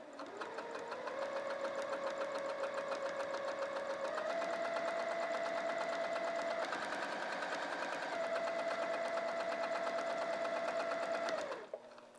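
A sewing machine runs steadily through fabric at a 3mm stitch length, a continuous close mechanical whir with a rapid needle chatter that shifts slightly in pitch partway through, then stops near the end.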